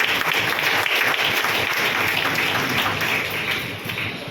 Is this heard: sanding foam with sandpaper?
no